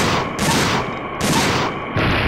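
Three heavy bursts of gunfire from Dino Crisis 2, loud and close, spaced roughly evenly with brief quieter gaps between them.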